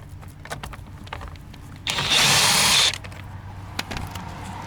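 A power tool runs a single steady burst of about one second, backing out 8mm screws on a Toyota Century door panel. Quiet clicks and handling noise come before and after.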